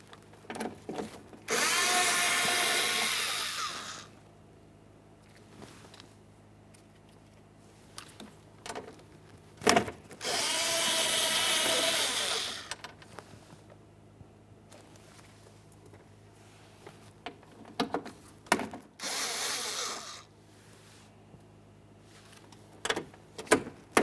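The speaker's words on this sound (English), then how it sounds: "Let's start removing the center mounting bolts." A power tool removes mounting bolts from the door of a 2012-2015 Honda Civic during a window regulator replacement, giving three loud whirring bursts of a few seconds each, separated by quiet gaps with faint clicks and knocks.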